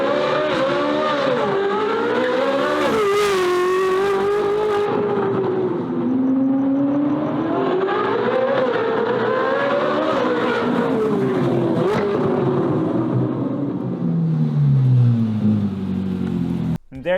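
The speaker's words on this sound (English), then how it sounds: "the new exhaust system on it sounds fucking awesome" A Ferrari 458 fitted with a new aftermarket exhaust revs loudly and close by, its engine note climbing and falling repeatedly in sweeping pulls with a raspy, racing-car edge, ending in a sharp cut.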